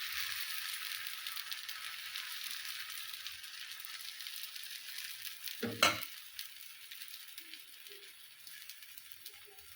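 Pearl millet flour dosa batter sizzling on a hot pan, a steady bright hiss that slowly fades, broken midway by a brief clatter of a utensil.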